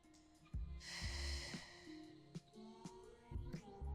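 Breath during a Pilates waist exercise: a sharp, close nasal exhale and a few shorter puffs of breathing, quiet and unaccompanied by talk.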